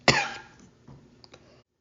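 A single sharp, close cough bursts out, followed by a fading throaty rasp and a couple of small, soft throat noises before silence.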